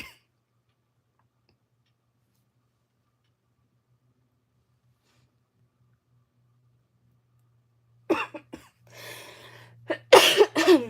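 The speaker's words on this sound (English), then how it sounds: "sorry, I'm coughing." A person coughs twice near the end, close and loud, after a long silent stretch, with a throat strained from doing character voices during a livestream.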